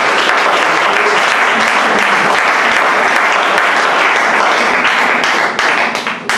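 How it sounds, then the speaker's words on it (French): A church congregation bursts into loud, sustained applause for the offering during a deacon and preacher consecration service, with dense clapping filling the room throughout before it begins to thin out at the very end. "Acclame le Seigneur pour cette offrande-là."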